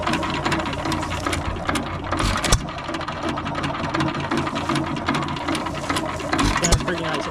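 A 1925 Hercules 2 hp stationary engine runs with its flywheel turning, giving a steady close mechanical clatter with rapid ticking, ratchet-like knocks and a few louder thumps throughout.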